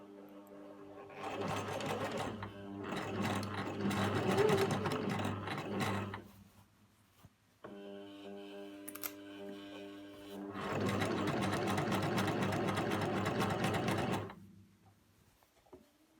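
Two loud, sustained runs of sewing machine stitching a tunic seam 1 cm from the edge, with mechanical whirring and a pause of handling between them, close by and without talk.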